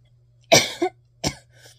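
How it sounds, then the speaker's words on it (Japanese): Two sharp, close coughs, the first followed by a short raspy catch, then a brief pause before the second. "冷たいもの食べるとさ、咳が止まんなくて"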